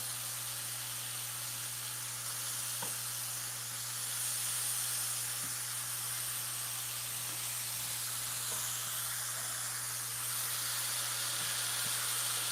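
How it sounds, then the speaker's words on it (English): Lamb chops searing in a hot pan give a steady, loud sizzling hiss that runs without a break over a low hum, with a few faint clicks and no voices. "So we got our lamb chop searing right now."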